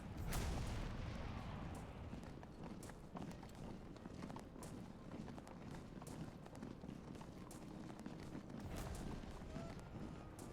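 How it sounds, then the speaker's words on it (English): Musket and artillery fire in the Civil War strategy game Ultimate General, a faint, continuous rumble of scattered distant shots and thumps with running feet and hoof-like patter mixed in. "We start shooting at these guys."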